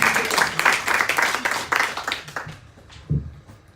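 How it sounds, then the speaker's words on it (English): An audience applauds a band after a performance, a dense patter of clapping that gradually thins and fades over a few seconds, ending with a low thump. "let's give the band a round of applause"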